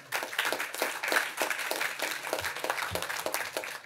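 Graduates and guests at a university graduation ceremony applaud together, a sustained, even stretch of many hands clapping in a large room, without speech.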